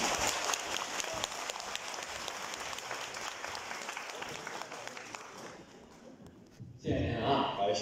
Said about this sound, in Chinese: 谢谢大家伙热情的掌声啊